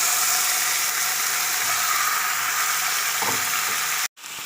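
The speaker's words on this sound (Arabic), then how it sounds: "قلايه وهنزل عليها بمعلقه من الزيت. دلوقتي بقى هنزل باللحمه" Meat dropped into a spoonful of hot oil in a pan for a stew, giving a steady, bright frying hiss that fills the whole stretch, close and even, cut by a brief break near the end.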